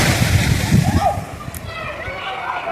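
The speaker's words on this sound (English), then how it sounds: "it's just the sound of the water, so tranquil." Water sloshing and lapping at Winifred Beach in Portland, Jamaica, close, rolling splashes that ease off and settle into a softer wash of moving water.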